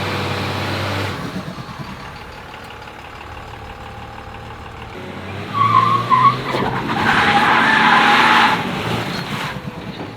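A Second Gen Cummins VP44 diesel truck spinning one tire, loud engine drone building into a harsh, sustained screeching squeal that holds for several seconds before easing off.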